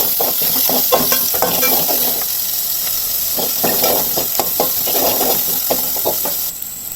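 Onions sizzle and fry steadily as they sauté in a pan, with repeated scraping and stirring strokes throughout, close and fairly loud, no voices.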